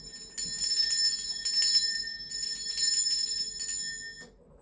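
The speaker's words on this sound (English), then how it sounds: "I'm going to be ringing this bell." A hand bell rung to cleanse a space gives bright, sustained metallic strikes in repeated bursts for about four seconds, then stops abruptly, with no voices over it.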